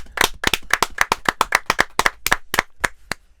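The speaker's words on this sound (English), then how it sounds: "Let's give this man one round of applause as he steps off the mic." A small group claps for a podcast guest as he steps away from the microphone, about a dozen close, sharp, distinct hand claps that thin out toward the end.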